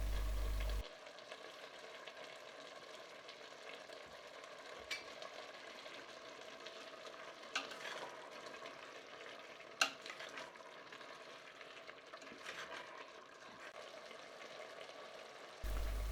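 Steady sizzling of olives and pickles frying in a pot for solyanka, with occasional soft scrapes and knocks from stirring; no voices, constant moderate level throughout.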